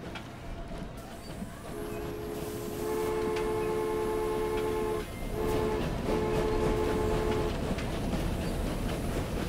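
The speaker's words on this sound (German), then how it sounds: "Und dann fährt der Zug jetzt hier aufs andere Gleis." A train in the game Transport Fever rumbles along the rails, and sustained tonal horn or whistle notes sound in several stretches partway through, steady and moderately loud over the continuous rolling noise.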